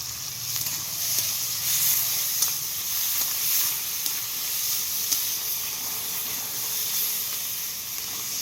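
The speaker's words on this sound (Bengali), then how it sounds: "এবার আমি রসুনটা দিচ্ছি, আদা" Garlic and ginger sizzle steadily in hot oil in a pan for an egg curry, a dense continuous frying hiss with faint scattered crackles and no voices throughout.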